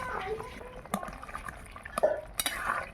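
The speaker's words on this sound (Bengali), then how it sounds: "ভালো করে মিশিয়ে নিলাম ঝোলের মধ্যে" A spoon scrapes and clinks against a metal pot with a few sharp knocks, while thick vegetable curry with fried neem leaves squelches softly as it is stirred.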